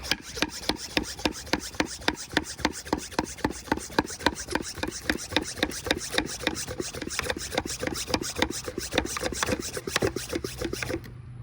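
A hand pump on a pressure sprayer filled with F9 cleaner is worked in steady, rapid strokes, each one a rasping, rubbing pull that repeats about three times a second, close and alone for the whole stretch.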